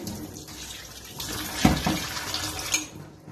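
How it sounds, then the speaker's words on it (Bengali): Washed flattened rice (chira) drains in a strainer, water trickling and splashing steadily at close range with a brief stronger gush partway through, no talking. "ভালো করে জল ঝরিয়ে নেব ভালো করে ধুয়ে নিয়েছি তিন চারবার ধুয়ে নিয়েছি"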